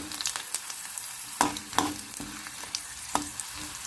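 Cumin seeds and curry leaf sprigs sizzle and crackle in hot oil, with steady frying hiss punctuated by several sharp pops and stirring scrapes, close and moderately loud, no talking.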